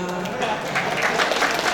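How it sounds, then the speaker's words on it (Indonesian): Audience clapping at a tech conference keynote session, moderate applause mixed with voices and rising slightly toward the end. "kalau mau tepuk tangan aja."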